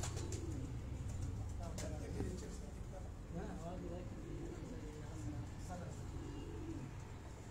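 Breeder pigeons coo on a rooftop loft in Rawat, a continuous low warbling of many birds close by, with someone talking over them.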